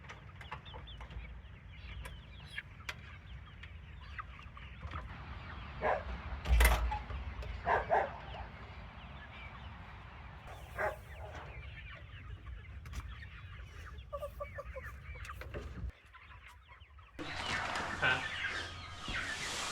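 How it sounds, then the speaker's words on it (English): Chickens cluck intermittently nearby amid outdoor background noise, with a few sharper bumps and a louder rustling burst near the end. "Just a few chickens."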